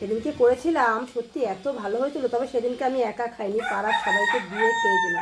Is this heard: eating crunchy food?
no